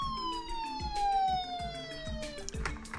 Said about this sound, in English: I will turn the filter on so that you don't hear all the sirens every 5 seconds.